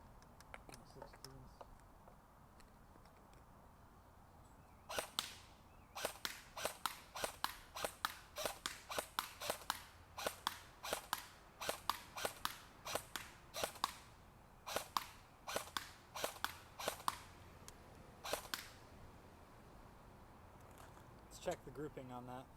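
A CYMA 048 AKM airsoft rifle, upgraded by SWIT, fires at a target to check its grouping, a long string of sharp, quiet single shots in quick irregular succession after a few seconds of near silence.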